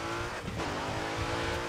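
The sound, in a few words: Chevrolet Camaro driving in the video game Grid 2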